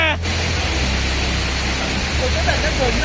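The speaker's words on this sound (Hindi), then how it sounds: "हमें फील लेना था उस पानी के नीचे, उस वाटरफॉल के नीचे, उस बहाव के नीचे" A hidden waterfall in Goa roars as a steady broadband rush of falling water, loud and close, with a brief voice at the very start and faint chatter near the end.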